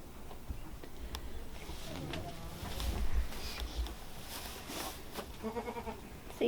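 A pregnant goat near labor bleats a few times in a farm pen, short nasal calls rising over steady low background rumble and shuffling, with a person talking softly nearby.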